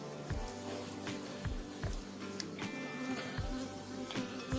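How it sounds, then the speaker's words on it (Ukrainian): Honeybees buzz around hive frames with drones walking on the comb, a soft, continuous insect hum with faint scattered knocks, heard alone without speech. "Дивіться, трутень ходить на рамці."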